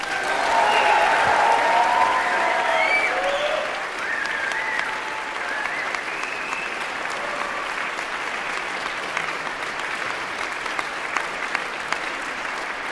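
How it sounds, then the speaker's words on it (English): Graduation ceremony audience at a school of music graduation and hooding celebration applauding loudly and steadily, with a few whistles and cheers near the start, then continuing as sustained clapping. "How about another round of applause for all of our graduates?"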